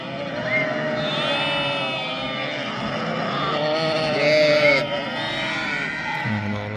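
Ewes and lambs in a spring flock bleat in overlapping, wavering calls close by, with a louder burst near the end and people talking underneath.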